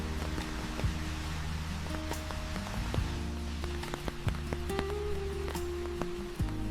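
Rain patters steadily on the streets of Interlaken, a soft wash of drops under a dense background mixed with scattered clicks and low tones from the town.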